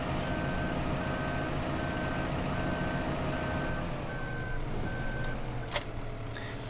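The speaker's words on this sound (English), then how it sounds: "I've got the challenge of trying to reverse this dolly trailer" Reversing beeps from a tractor backing up a dolly trailer in Farming Simulator 2015, evenly spaced tones over a constant low engine drone, with a brief clunk near the end.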